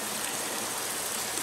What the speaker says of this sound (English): There's nice water runoff on the rocks up ahead